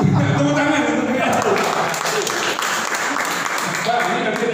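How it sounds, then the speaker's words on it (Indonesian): Audience applause at a sales presentation, dense steady clapping throughout, fairly loud and close, with voices faintly mixed in. "Tepuk tangan untuk dia."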